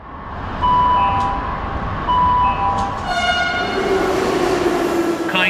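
A metro train pulls into a station, its horn sounding in short repeated blasts over a steady, loud rumble of rolling wheels and carriages, with no voices.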